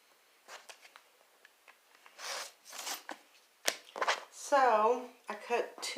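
Stacked layers of cotton fabric are cut in a run of crisp, irregular snipping and chopping sounds, close and fairly quiet, with a person talking in between.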